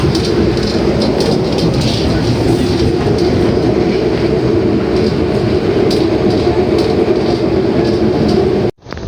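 Aboard the Wijaya Kusuma passenger train in executive class, a loud, steady rumble of rolling wheels and rattling carriage fills the air, with faint clickety-clack, before the sound cuts off abruptly near the end.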